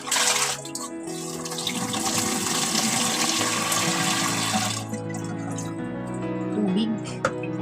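Water pours and splashes into a container to make brine for soaking salted eggs, a steady rushing stream for about five seconds that then thins to scattered drips, with a voice talking over it.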